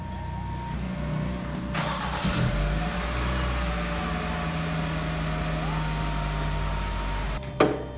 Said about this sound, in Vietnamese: Trước khi mà nổ đề cái xe bị sự cố thì các bạn phải nổ máy của cái xe đi cứu hộ trước